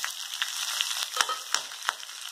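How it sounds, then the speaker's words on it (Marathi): Green chilies roasting in a pan for thecha, a close, bright sizzle with a few sharp pops and crackles spaced through it, steady and without talk. "एक दोन मिनिटात मिरची भाजून घेऊ"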